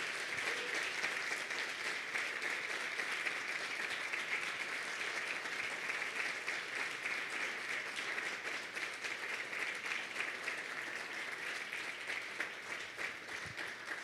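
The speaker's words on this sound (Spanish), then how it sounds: "¿Le puedes dar un fuerte aplauso a Dios?" A church congregation applauds for God, sustained even clapping from many hands heard at some distance for the whole stretch, fairly soft and unbroken.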